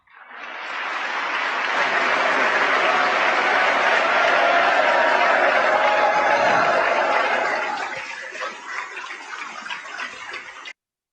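Members of the US Congress applaud Netanyahu in their chamber: dense, sustained clapping from a large crowd that swells quickly, holds steady for several seconds, then thins into scattered claps before stopping.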